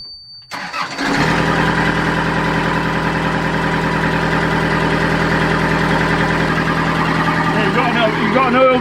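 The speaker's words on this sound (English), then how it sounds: "what we're going to do now is start the engine up" A narrowboat diesel engine cranks briefly after a quiet start, catches, and settles into a steady, close, throbbing idle that continues evenly to the end with a slight rise near the finish.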